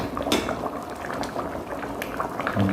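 Crab curry bubbles steadily in a cooking pot, a dense, continuous boiling hiss with soft pops, close and fairly loud, with no voices.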